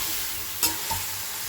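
Spices and yogurt are stirred into potatoes frying in a pan. A steady loud sizzle runs throughout, with a sharp scrape of the spoon and a softer second stir a moment later.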